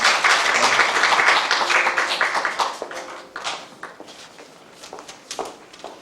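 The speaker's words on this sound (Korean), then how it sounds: "우리 큰 박수 좀 쳐주십시오" An audience applauds a council member at a morning online meeting, steady clapping that is loud at first and then thins into scattered claps.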